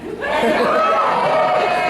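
Convention panel audience for Johnny Yong Bosch at Anime Triad bursting into loud, sustained cheering and whooping, a dense close crowd roar rising sharply and holding steady.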